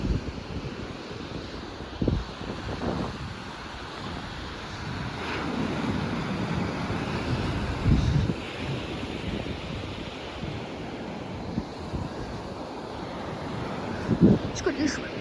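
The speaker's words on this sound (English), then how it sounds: "Look at the size of those waves." Big ocean waves surge and crash at high tide at Avon by the sea, a continuous roaring wash of surf with several louder breaking peaks, muffled by wind buffeting the microphone.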